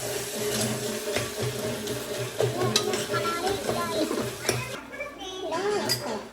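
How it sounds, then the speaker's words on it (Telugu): Tomatoes fry in a pan for a curry made with goat head pieces, a steady close sizzle under a voice speaking, with light stirring clinks now and then. "మంచిగా టమాటాలు ఇక మంచిగా ఫ్రై అయ్యేదాకా అట్లనే ఉండనియండి"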